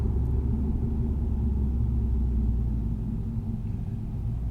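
Lexus GS F 10th Anniversary Limited V8 engine rumbling steadily while driving, a deep, continuous low drone heard close from inside the cabin, with no voices over it.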